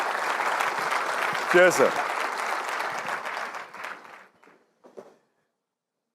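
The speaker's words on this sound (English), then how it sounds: "give him a round of applause" Audience applause at an IBM Think 2019 keynote: sustained clapping from a crowd that thins out and tapers to a few last claps, with someone briefly speaking over it.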